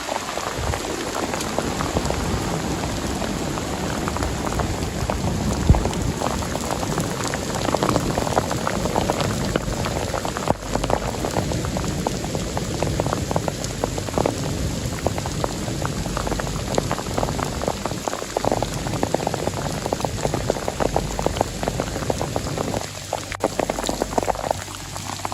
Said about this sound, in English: Rain and thunder hammer the fabric inches from his face.